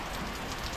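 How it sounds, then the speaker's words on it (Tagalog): Heavy rain pours down in a steady, dense, loud hiss with no pauses and no voices over it. "Lakas ng ulan, oh."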